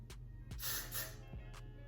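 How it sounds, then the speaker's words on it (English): Got2b hairspray hisses from an aerosol can onto hair being styled into a bun, with a sustained spray burst between shorter puffs, close and fairly soft. "take some Got2b spray, and spray it until it's exactly"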